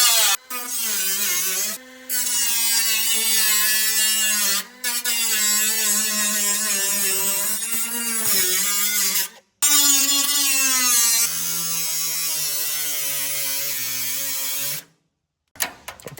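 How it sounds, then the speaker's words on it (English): A cutoff saw slices through a barn wall to free old door hinges, a loud harmonic whine in long bursts with brief pauses between cuts and the pitch sagging under load near the end. "So I use my cutoff saw, try and cut this out so I can just get enough to pull these hinges off"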